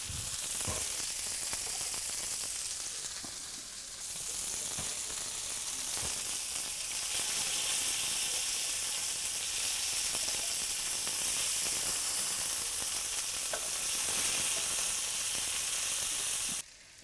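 Gourmet burgers sizzle steadily in a hot pan, a loud, continuous bright hiss of frying with faint crackles throughout and no talking.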